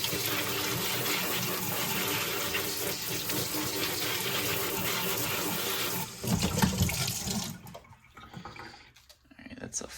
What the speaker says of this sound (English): We'll give the scallions a little rinse.